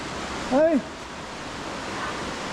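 River Šujica pouring into its sinkhole beneath a natural stone bridge in a dark Bosnian canyon, a steady broadband rush of moving water with a brief nearby voice over the flow.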